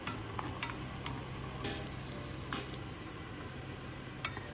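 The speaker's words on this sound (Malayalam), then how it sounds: "കിസ്മിസ് ഒന്ന് വറുത്തെടുക്കാം." Steady, quiet sizzling of something frying in a pan, with occasional faint clicks and stirring sounds; no voices.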